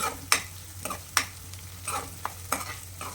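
Vegetables for a brinjal, tomato and drumstick curry fry softly in a pan, the quiet sizzle broken by about five sharp stirring scrapes spaced roughly evenly apart, close and alone.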